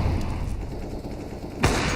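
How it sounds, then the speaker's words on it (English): Gunfire in Counter-Strike: Global Offensive on the Inferno map in a pro match, a steady rattle of distant shots ending in a sharper burst near the end. "shot there from Mo"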